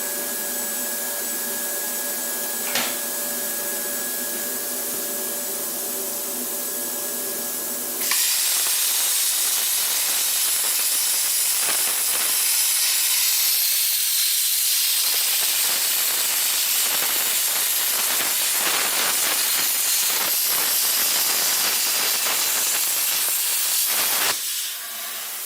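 A Simder SD-4050 Pro plasma cutter slicing metal, a loud, steady hiss and roar that cuts in abruptly and runs for over fifteen seconds before stopping, following a quieter electrical hum.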